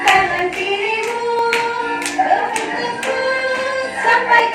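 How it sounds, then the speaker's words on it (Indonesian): Repeated back-of-hand clapping in a guided movement exercise, sharp slaps falling in a steady rhythm with a sung or spoken voice running beneath them throughout. "Tepuk tangan dengan punggung tangan, lakukan berulang-ulang"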